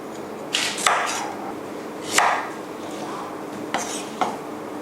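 A knife chops carrots into bite-sized chunks on a board while Japanese curry is being prepared, giving a few sharp separate knocks spaced out with short quiet gaps between them.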